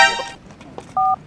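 A phone dials, with a short series of keypad tones. A brief voice is heard in between, followed by a clear, sustained dual-tone beep near the end.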